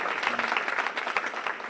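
Dense, steady applause from an audience at a school district event in Austin, a continuous wash of many hands clapping for nearly two seconds at moderate loudness.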